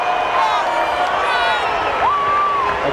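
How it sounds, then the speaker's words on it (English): A big ballpark crowd of nearly 41,000 at a Chicago Cubs game cheers Sammy Sosa: a loud, sustained roar with whoops and whistles rising through it, and a broadcaster's voice speaking over the top. "The biggest crowd of the year greeting Sammy Sosa"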